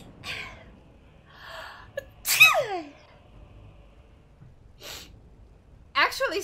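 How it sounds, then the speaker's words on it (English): A person gives a sudden, sharp sneeze after a few quiet breaths and gasps, then another breathy burst follows, all close and clear in a quiet room. "Actually, sneezing was not on my plans."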